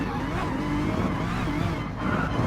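Race car in the GT Sport video game on the Nürburgring GP circuit, a loud continuous engine roar with some tire scrub, steady throughout and without talk.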